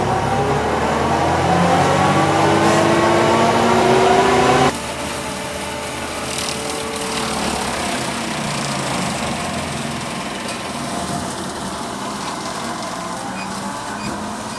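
A tractor-driven New Holland Boomer quick-attach brush mower running steadily nearby, a loud continuous engine drone with whirring blades that drops slightly in pitch midway.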